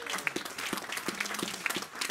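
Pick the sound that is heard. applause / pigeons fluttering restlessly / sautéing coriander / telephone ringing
applause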